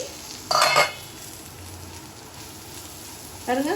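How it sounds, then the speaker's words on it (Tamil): A spatula stirs a bitter gourd fry in a pan. Two brief, bright scraping strokes sound over a faint, steady background hiss. "இடையில இடையில நீங்கள் ஒரு வாட்டி கிண்டி விட்டுக்கோங்க"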